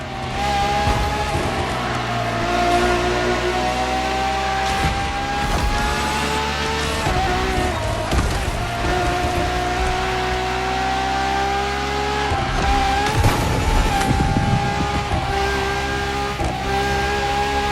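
Ferrari naturally aspirated V12 hybrid supercar engine in The Crew Motorfest racing game, a loud, continuous high-pitched howl with rising and falling revs and a few gear-shift dips, steady and close throughout.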